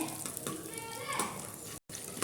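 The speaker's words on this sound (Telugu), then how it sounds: "ఇదిగోండి చిన్న అల్లం ముక్క వేసాను దీనిలో అది కూడా కొంచెం ఫ్రై అవుతుంది" A small piece of ginger frying in a pan of oil alongside green chillies and peanuts for chutney, giving a steady close sizzle with faint stirring scrapes and a brief dropout near the end.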